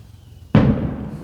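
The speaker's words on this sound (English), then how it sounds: "More fireworks." A single firework bursts in Tepoztlan, Mexico: a sudden loud bang followed by a fading rumble, heard alone without talk.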